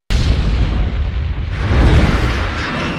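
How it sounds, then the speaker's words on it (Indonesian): A double-decker bus blows up on a bridge in a film scene, a loud sudden boom followed by a sustained roaring rumble of blast and debris that swells again before slowly fading. "mereka menyebabkan ledakan pada sebuah bus tingkat di atas jembatan"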